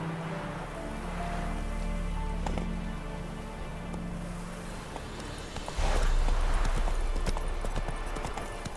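Hooves of Geralt's horse Roach clip-clopping in The Witcher 3: Wild Hunt, a steady rhythmic beat over ambient wind and music, growing louder and faster near the end.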